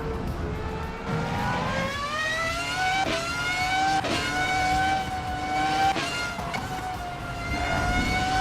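A simulated race car engine in the Assetto Corsa EVO racing game climbs steadily in pitch, with several sharp gear shifts interrupting the loud, continuous drone.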